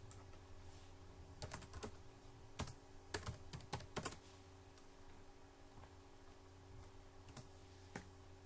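Text being typed into Excel spreadsheet cells on a computer keyboard makes sparse, quiet key clicks in small bursts, with a few isolated taps, over a faint steady hum and no talk.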